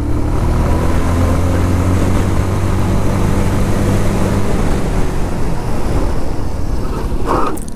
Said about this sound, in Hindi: पहले हम आगे वाली ब्रेक को अप्लाई करेंगे